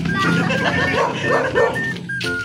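A small dog yips and barks repeatedly amid a busy mix of people talking nearby, the barks short and high.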